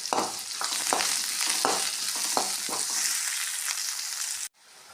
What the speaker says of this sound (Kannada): ಎರಡು ಉಳ್ಳಾಗಡ್ಡೆಯನ್ನು ಹಾಕಿರಿ ಚೆನ್ನಾಗಿ ಫ್ರೈ ಮಾಡಿರಿ